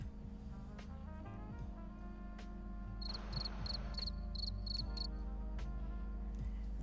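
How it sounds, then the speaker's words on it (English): Crickets chirp in steady repeated bursts for a couple of seconds, moderately loud, over a constant low hum and background sound during a guild-run game stream. "I heard a bunch of crickets, though."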